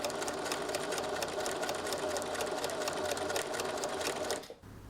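A sewing machine hums in a fast, even run while stitching the front lining of a bolero, close and loud, cutting off abruptly near the end.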